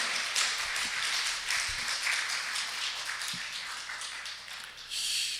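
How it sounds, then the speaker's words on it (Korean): A church congregation claps together, a sustained wash of applause at moderate volume with a brief swell near the end. "우리 박수로 하나님께 영광을 올려드리겠습니다"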